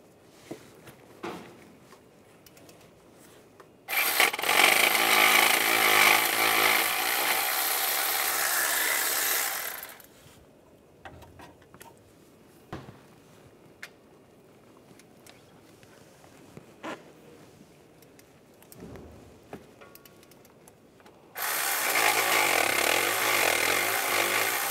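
Ratcheting socket wrench with a 15 mm socket taking nuts off a 2010-2016 Cadillac SRX during crankshaft position sensor replacement: two long, loud bursts of rapid clicking separated by a quiet stretch with small clanks.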